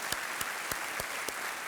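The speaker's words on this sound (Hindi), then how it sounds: "तालियों के साथ इनका अभिनंदन।" Studio audience clapping on a TV quiz show, fairly quiet and distant. Light claps run under a few sharper, regularly spaced thumps.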